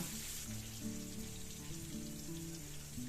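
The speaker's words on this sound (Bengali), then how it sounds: "এবার কুচনো পেঁয়াজটা এর মধ্যে দিয়ে দেব" Chopped onion hits hot oil already seasoned with whole cumin and a bay leaf for a Bengali mushroom bhuna, giving a steady, soft, rain-like sizzle with faint clinks, no talking.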